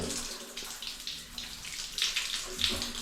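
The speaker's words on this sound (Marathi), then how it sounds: "आता बघा पाणी चालू करतो बघा जास्त येतं ना" Water runs steadily from a tap with a soft hiss and splash, fairly quiet, with no voices.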